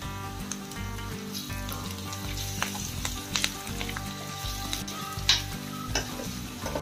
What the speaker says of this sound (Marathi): कढीपत्ता टाकून घ्यायचा आहे। आता मिरची आहे आतून कट केलेली आहे ती टाकून घ्यायचं आहे।